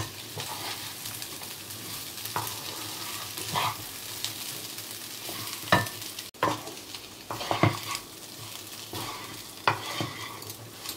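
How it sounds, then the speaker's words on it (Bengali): Chicken and rice are sautéed in a pan for a Bengali-style chicken ghanto, with a soft steady sizzle broken by repeated scraping stirs of a spatula, fairly close and moderately quiet, no voices. "এটা 1 মিনিট মতো আমি কষবো একটু চালের সাথে আর চিকেনের সাথে"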